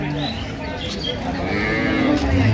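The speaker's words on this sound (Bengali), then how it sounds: "গাভী বাছুর" A dairy cow lows loudly at a busy village cattle market in Ambari, Dinajpur, with a long, deep moo that fills the clip close by over a steady crowd murmur.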